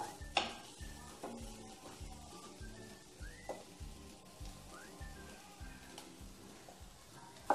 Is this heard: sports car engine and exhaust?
no